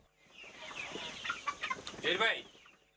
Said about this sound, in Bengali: উদ্ভাবন করেছেন নতুন জাতের মুরগি, যার নাম বাও মুরগি